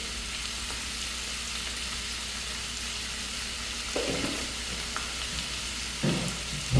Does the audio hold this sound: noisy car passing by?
no